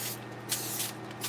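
A can of cooking oil spray mists over a salmon cake before air frying, giving one continuous close hiss with slight surges in strength.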